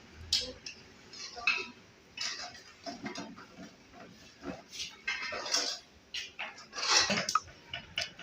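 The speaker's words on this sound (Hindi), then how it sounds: "ये देखिए मैं डिश आउट करूँगी।" Metal utensils clink and scrape against a pan as fried sweet vermicelli is dished out, giving irregular close taps and clatters with faint background noise.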